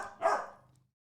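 A single close dog bark, sharp and loud, trailing off quickly into quiet, heard alone.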